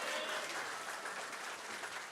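An audience at a church anniversary service in Dubai claps together in a steady, dense wash of applause, heard from a moderate distance and fairly quiet.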